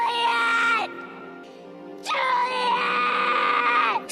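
Romeo, in a Romeo and Juliet film, screams and cries in grief in two long anguished wails, the first breaking off before a short pause and the second running longer, loud and close.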